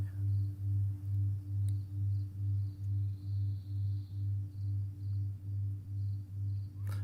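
Meditation bowls played dry with no reverb give a steady low hum that swells and fades in regular, even pulses, with a faint higher ringing tone drifting above it.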